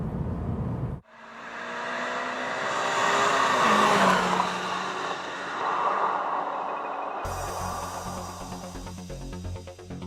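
A Toyota AE86 lightweight sports car engine with about 200 horsepower revs and drives loudly and continuously, rising and falling in pitch, after a brief earlier sound cuts off.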